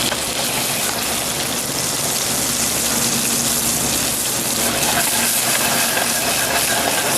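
California spiny lobster tail sears in a hot pan, giving a loud, steady, close sizzling hiss that holds unbroken throughout with no voices.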